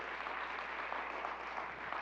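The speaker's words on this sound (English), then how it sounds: "let's give those guys a round of applause for all they're doing too" Faint, distant audience applause forms a soft, steady wash of many hands clapping at a talk on leadership and mental wellness, with a low background hum underneath.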